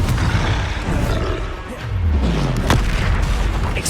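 A Confringo spell explodes in the Hogwarts Legacy video game with a heavy, booming roar, deep rumbling bursts rolling one after another and a sharp crack near the end, loud and close.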